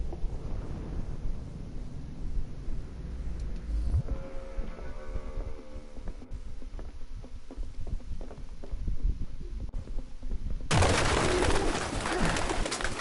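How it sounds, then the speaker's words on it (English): Pigeons coo and flutter in a derelict, foul-smelling room in Detroit: Become Human, soft low cooing over wind and ambient hiss, with a loud rush of wings or noise near the end. "Fucking birds."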